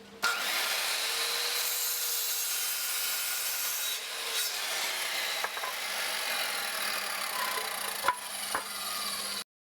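A handsaw cuts through 2x4 lumber for a wooden gate, a steady rasping back-and-forth stroke that continues close and fairly loud for about nine seconds before stopping abruptly.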